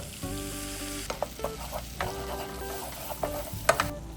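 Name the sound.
butter and flour sizzling for a roux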